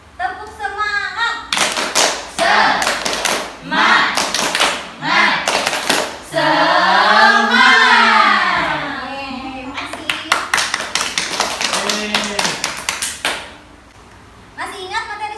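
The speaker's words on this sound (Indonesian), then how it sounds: "Kita tepuk semangat." A classroom of children performs a rhythmic spirit clap as an ice-breaker, with bursts of patterned hand claps alternating with group chanting and a teacher's voice, loud and close in a small room.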